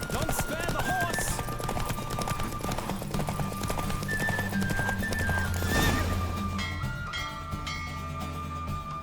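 A horse gallops during a race in the video game The Witcher 3, with steady, loud hoofbeats and a neigh partway through, all over background game music.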